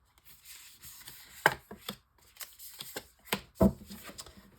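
Tarot cards shuffled and drawn by hand, producing soft rustling and several sharp slaps and snaps of card stock, close and alone without talking.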